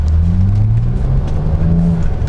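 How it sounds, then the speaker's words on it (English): A Saab 9-3 Turbo X with about 171,000 miles cruising, a loud, steady low engine drone with a gently rising and falling hum, heard close from inside the car with no talk. "So here we are cruising in the Turbo X"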